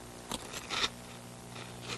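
Crispix cereal being crunched: a few soft, crisp bursts spaced apart, the strongest near the middle, fairly faint over a quiet background hum.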